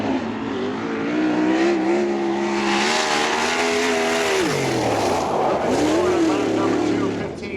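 A USAC race car at full throttle on a qualifying lap at Ocala Raceway Park, its engine note sustained and loud, dipping briefly mid-lap then rising again, with a commentator talking throughout.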